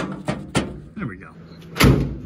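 Passenger door of a long-abandoned 1948 Dodge Power Wagon shuts, with a few light clunks and handling thumps before one solid, nearby slam.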